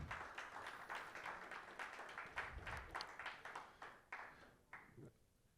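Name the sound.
audience applause for a panelist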